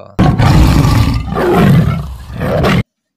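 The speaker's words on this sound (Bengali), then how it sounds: "বাঘ তখন রাজি হয়ে একটা জোরে গর্জন দিল" A loud, sustained tiger roar rumbles close by, swelling in two long bursts with a brief dip between, ending abruptly.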